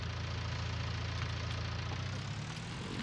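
Tractor engine in Farming Simulator 19 running steadily at a low, throbbing idle-like drone, close and continuous for the whole span.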